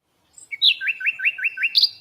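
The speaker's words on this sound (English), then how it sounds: "Hear that? The sound of adorable little birds in your garden." Small garden birds chirp in a quick run of repeated bright, rising tweets, close and clear with nothing else around them.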